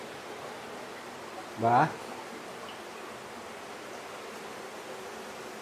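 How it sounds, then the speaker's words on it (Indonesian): Loud babbling water fills the background as a steady rushing hiss throughout, with one brief word spoken over it. "suara air gemericik ini keras sekali"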